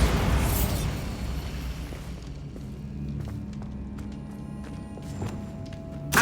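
Bombarda spell blast in Hogwarts Legacy inside a tomb: a loud burst at the start decays into rumbling debris, followed by scattered small clatters and thuds of falling bits, and a final short pop.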